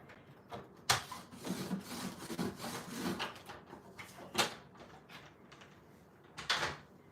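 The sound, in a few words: scoring cardstock diagonally for easel card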